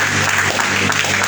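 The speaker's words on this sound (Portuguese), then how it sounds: "Palmas para Jesus." A Pentecostal church congregation in Mogi Guaçu, Brazil, bursts into a short, dense round of applause, loud and close, filling the whole moment.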